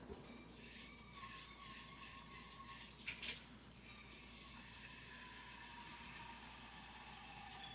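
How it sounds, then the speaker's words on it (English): Water runs steadily from a tap into a pot of pasta, a faint continuous rushing with a brief clatter partway through. "I'm gonna add some more water to this pasta."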